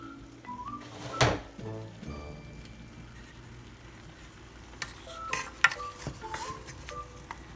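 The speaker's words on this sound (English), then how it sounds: "So I'm gonna stir these as much as I can." A spoon scrapes and clanks through oxtails in a cooking pot with a few sharp metallic knocks early on, then softer stirring over a faint sizzle; quiet and close, with no talking.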